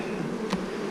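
Honey bees in a healthy hive give a steady, close, continuous buzzing hum with one brief louder rise partway through, and nobody talks.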